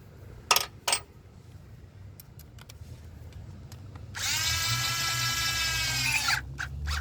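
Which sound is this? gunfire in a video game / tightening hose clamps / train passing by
tightening hose clamps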